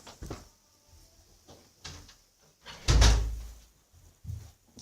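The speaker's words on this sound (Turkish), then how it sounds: "Kapatayım kapıyı." A door is pulled shut indoors: a few light knocks and rattles of the handle, then one solid closing thump, followed by a softer bump.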